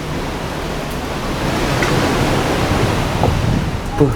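Ocean waves washing past a large passenger ship of the PELNI line, KM Kelud, heard as a steady broadband wash with wind noise, continuous and moderately loud throughout with no talking.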